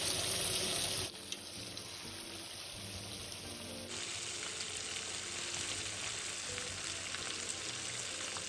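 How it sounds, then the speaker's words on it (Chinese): Marinated chicken pieces deep-frying in oil at about 150°C, a continuous close hiss of bubbling fat that shifts in tone twice but never stops, with no talking. "再将鸡肉放入油炸"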